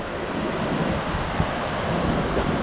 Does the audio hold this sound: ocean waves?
yes